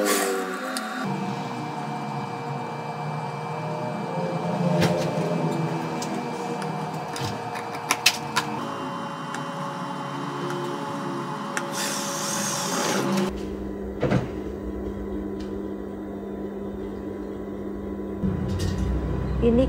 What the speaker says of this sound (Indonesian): Ini kita jahit ini ya, pas di karet dilebihin dikit.